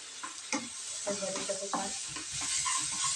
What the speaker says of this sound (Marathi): आपण हे छान असं हलवून घेऊया